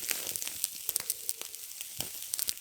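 A butter-smeared, seasoned steak cooking over a campfire while wilderness camping, giving soft crackling and sporadic sharp pops and spits against a quiet background.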